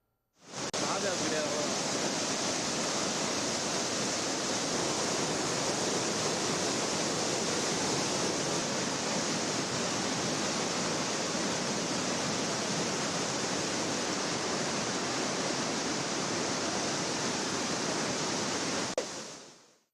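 Floodwater pours down Courtallam waterfall in a steady, dense roar that stays loud and unbroken throughout, with no other sound rising above it.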